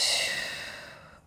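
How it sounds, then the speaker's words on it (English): A deep, slow breath out during a home yoga session, an airy breathy exhale that starts fairly strong and tapers off quietly over about a second. "Big inhale. Big exhale."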